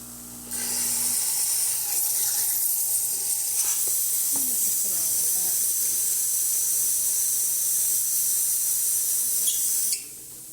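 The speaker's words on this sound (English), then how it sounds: "I'm just going to test by showing you the hot water, the steam, the brewing." A Lelit Mara espresso machine's steam wand releases a strong, continuous hiss for about nine seconds after a low pump hum, then abruptly shuts off.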